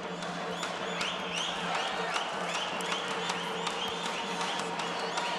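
Boxing crowd at a men's flyweight quarter-final between Andrew Selby and Ilyas Suleimenov cheers and applauds steadily, with scattered whistles cutting through a constant roar.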